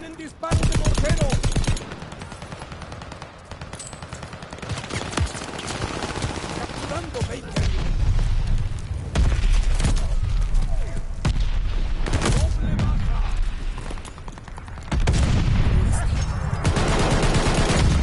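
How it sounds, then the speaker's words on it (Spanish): Gunfire and explosive mortar blasts in the Call of Duty Vanguard video game, loud rapid bursts and booms layered through the whole stretch, with voices shouting over the combat. "¡Tienen disparo de mortero!"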